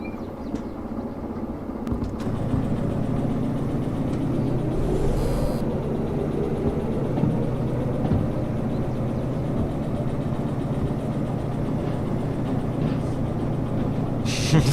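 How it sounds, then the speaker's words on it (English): Small diesel locomotive in the video game Derail Valley starting and rolling forward, a steady low engine rumble with a slowly shifting drone, close and continuous, with faint clunks at start and end. "we've got ourselves another little loco. Turn it on. And send it forwards."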